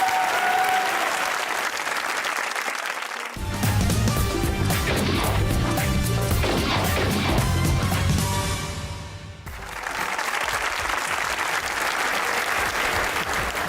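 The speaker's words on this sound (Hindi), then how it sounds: "बजाओ तालियां" A studio audience at a comedy interview show bursts into loud, sustained applause with a thick mass of clapping hands, then it fades and the room settles back into chatter.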